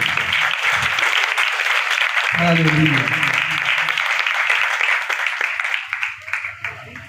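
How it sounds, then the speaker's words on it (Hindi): Congregation applause fills a church service, broad steady clapping from start to finish with a short spoken exclamation in the middle, the clapping thinning out toward the end. "तो आइए खुदावंद के बंदा के लिए ज़ोरदार तालियां दें।"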